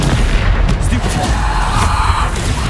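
A Stupefy spell cast during combat in the video game Hogwarts Legacy, heavy booming blasts and impacts under loud, continuous game battle noise, with a voice talking over the action.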